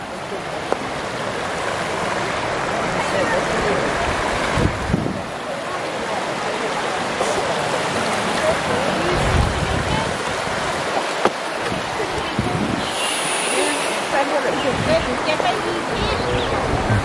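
Bushkill Falls in Pennsylvania sends a constant, loud wash of rushing water, with people chatting and calling out nearby over the roar.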